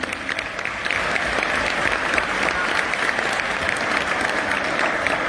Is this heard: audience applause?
yes